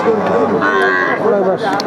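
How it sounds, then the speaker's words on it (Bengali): A Deshal breed bull calf at a cattle market moos loudly and close, giving a drawn-out, wavering bellow with a brief dip before a second swell. "দেশাল জাতের ষাঁড় বাছুর।"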